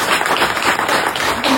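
Audience at a Tamil political speech about a temple festival clapping, a dense burst of applause from a crowd, loud and close, without speech.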